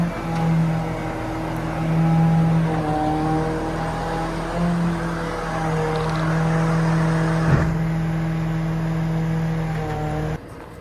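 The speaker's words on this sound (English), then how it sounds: "So they've only got the lift on the one lorry, so this one's just pulling out the way." A lorry at a farm pulls out of the way while containers are being lifted, its engine droning steadily at close range with a low, even rumble for about ten seconds.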